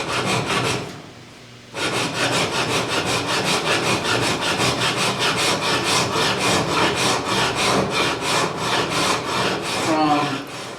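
A Mill Bastard file works the steel bevels of a forged wakizashi blade in quick, even back-and-forth rasping strokes. They pause briefly near the start, then continue in a steady, close rhythm.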